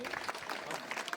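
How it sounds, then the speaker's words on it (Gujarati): A crowd claps together to welcome Hanuman ji at a Shivnath Mahadev gathering. The clapping is a short burst of dense, steady applause from many hands, fairly close. "આપણે તાળીના નાદ સાથે એમનું સ્વાગત વિધિ કરશું"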